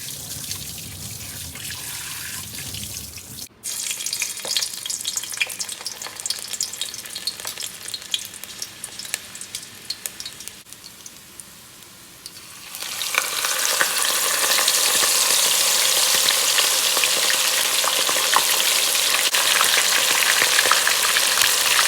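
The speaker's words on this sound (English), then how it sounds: "we're going to head on over to the stove where we're going to start the frying process" Seasoned fish fries in preheated vegetable oil on a stove, starting with quieter crackles before a loud, dense sizzle surges and holds steady for the rest.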